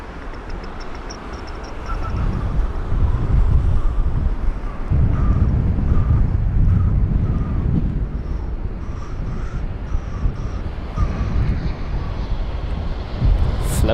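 An Airbus A320 landing at London Heathrow on a windy day gives a sustained, loud jet roar with wind buffeting the microphone, rising after the first couple of seconds and holding steady throughout, with no talking.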